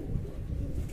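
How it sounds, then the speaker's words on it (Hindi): A pet pigeon settling onto its perch gives a low, soft cooing murmur over a brief stretch, close but faint, with no speech. "ये बैठ गया जी हमारा कबूतर पहला"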